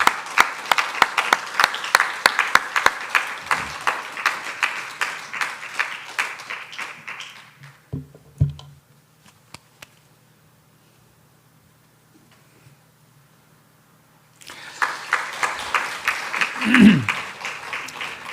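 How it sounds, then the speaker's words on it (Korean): A church congregation at a Sunday service applauds to welcome a missionary couple. Sustained, close applause rises over talk, drops into a quiet lull, then returns as a second burst of clapping. "선교사님 내외분 우리 박수로 환영합니다."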